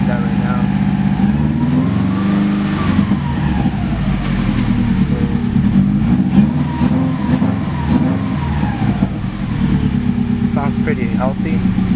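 2005 Subaru WRX with misfire codes, engine running steadily with a throbbing, slightly uneven note and occasional light revs, close up, while someone talks over it.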